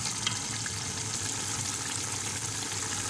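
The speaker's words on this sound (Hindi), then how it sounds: "अब इसमें 4 गिलास पानी डाल दूँगी ताकि ये अच्छी तरीके से जो है ना बन जाए।" Water is poured steadily into a pot of mutton korma with fried spices, making a continuous close rushing splash with no talking.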